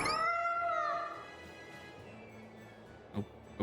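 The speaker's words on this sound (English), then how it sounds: "We found a cat." A cat in Tales of Berseria gives a single drawn-out, wavering meow up close that fades into quiet game ambience, followed by a faint soft thump.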